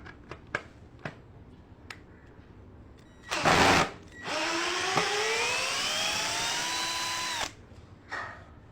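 A Ken 12V cordless drill driver runs in one short loud burst, then a sustained whine as it drives a 7-inch screw, pitch dropping slightly under load, with a few sharp clicks before and after.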